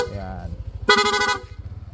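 A Yamaha NMAX V2 scooter's horn, set to rapid mode, gives a quick burst of loud honks mid-clip while someone speaks before and around it.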